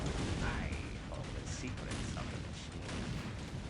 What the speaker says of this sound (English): Explosions absolutely everywhere.